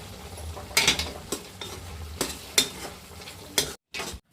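Onion manchurian frying in a pan is stirred after pepper powder goes in, with sharp spoon scrapes and clinks against the pan coming every half second or so over a soft, steady sizzle.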